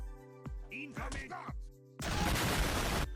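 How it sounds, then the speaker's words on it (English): An added explosion sound effect in a Team Fortress 2 short: after some clicks, whooshes and tonal game noises, a loud broadband blast erupts and sustains for about a second. "And of course, I'm gonna add an explosion."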